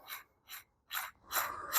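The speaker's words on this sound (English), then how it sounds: "there's it's a triangular structure inside here that tightens down as you spin this." A drill chuck with an internal triangular jaw mechanism is spun by hand, giving a series of short, close, quiet ratcheting whirs in uneven bursts with brief gaps, the last one longer.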